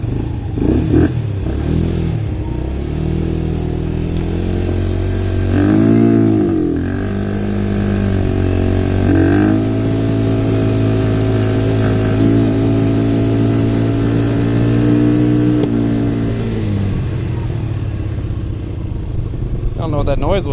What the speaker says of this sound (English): Yeah, that's max RPM.